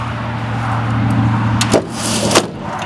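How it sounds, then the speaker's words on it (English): A solid car door on an old Ford station wagon shuts outdoors with a heavy thunk, followed by a second closing knock, over a steady low rumble of background noise. "You don't hear car doors like that no more."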